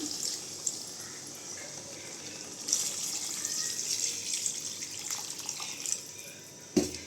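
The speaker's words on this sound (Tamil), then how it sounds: "தண்ணி சேர்த்துக்கோங்க." Water is poured into a pot of Tamil-style mutton kulambu, a steady splashing flow running throughout, fairly close and moderately loud, with a brief louder surge near the end.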